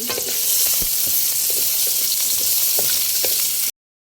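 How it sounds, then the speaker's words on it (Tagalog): Onions dropped into used chicken frying oil, a loud close steady sizzle with scattered crackles and stirring clicks, ending abruptly in silence. "Drop na tayo ng onions."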